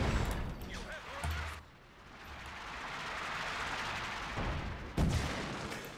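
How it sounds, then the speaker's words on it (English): Smoke creeping barrage from ML-20 howitzers in Company of Heroes 2, a muffled run of distant artillery booms and rumbling impacts forming a steady low roar, with a sharper blast near the end. "So you can see we can do the smoke barrage, go from left to right, right to left, or up and down."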